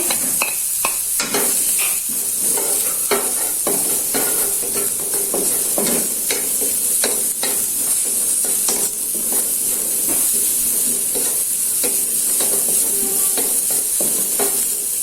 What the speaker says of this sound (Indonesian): Nah di sini untuk bawang merahnya ini saya tumis duluan. Bawang putihnya saya masukkan.